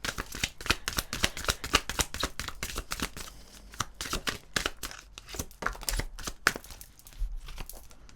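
Tarot cards being shuffled in rapid riffling bursts, a dense papery flutter of crisp slaps and rustles continuing steadily throughout at close range, with no speech.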